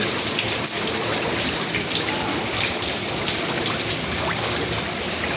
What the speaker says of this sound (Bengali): এখনো বৃষ্টি পড়তেছে, এই যে দেখেন